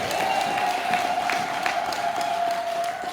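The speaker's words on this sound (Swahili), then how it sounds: "Kama unaamini hivyo, mpe Bwana makofi." A church congregation at a Sunday service breaks into sustained applause, a dense, even wash of clapping from a large crowd with a few scattered cheers and voices mixed in.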